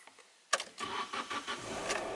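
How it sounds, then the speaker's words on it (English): A Nissan car's engine cranks with a sharp burst after a quiet moment, catches and settles into a rough, uneven idle close by, following a rainy day. "Okay, luckily this Nissan starts."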